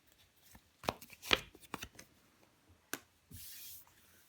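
Tarot cards are laid down and handled on a table: soft slaps, slides and brushing shuffles in scattered bursts, fairly quiet and close, ending in a longer sustained rustle.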